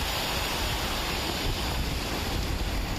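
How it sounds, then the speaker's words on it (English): Heavy nor'easter surf pounds oceanfront homes on the coast at Scituate, a continuous, loud, broadband roar of breaking waves with wind buffeting the microphone and no voices. "Massive nor'easter waves pounding away at the oceanfront homes in Scituate."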